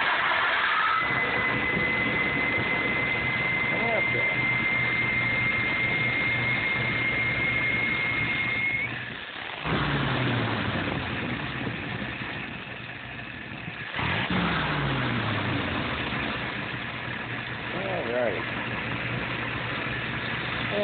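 A warmed-up motorcycle engine restarts and settles into a steady idle, a continuous mid-pitched rumble with a couple of short dips and blips partway through, loud and close with no voices.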